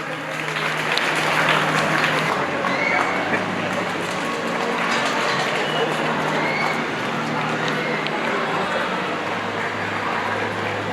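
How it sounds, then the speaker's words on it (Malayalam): Audience at a fair's closing ceremony applauding, a dense, steady wash of clapping that holds loud and unbroken, with crowd murmur beneath. "കയ്യടി ആവാം കേട്ടോ എല്ലാവർക്കും"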